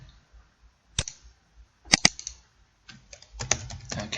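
Sparse, crisp keystrokes on a computer keyboard, a single tap followed by a quick pair and then a flurry of clicks, close and fairly quiet.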